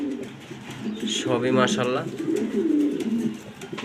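A white Roman pigeon coos close by in soft, repeated rolling calls while someone speaks over them.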